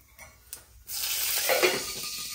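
Hing and curry leaves hit hot oil for tomato curry, setting off a sudden loud burst of sizzling and crackling after a quieter start with a few faint clinks. The popping sizzle then stays steady.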